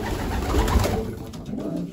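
Young racing pigeons coo softly in a loft, a low murmuring burble that rises and fades over two seconds with no talk.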